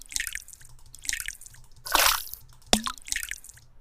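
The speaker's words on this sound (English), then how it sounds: "And a few of the pebble splashes, these were just sort of to punctuate bits of silence in the track." Water sound effects in a sound-design track: a few short, distinct drips and pebble-like splashes punctuate quiet stretches, including one broad, louder splash in the middle and a sharp plop soon after.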